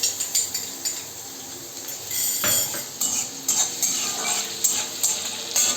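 Chopped garlic hits hot oil in a pan, sizzling steadily while a utensil stirs and scrapes against the metal in repeated clinks close by.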